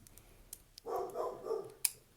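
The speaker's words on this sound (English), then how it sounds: "if you can hear my dog barking in the background" A dog barks faintly in the distance, a short muffled burst of a few barks amid quiet room noise and a couple of small clicks.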